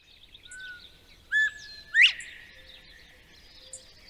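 Northern bobwhite song: two clear whistled notes, a short level whistle followed by a louder sharply rising one, heard alone over faint background bird chatter.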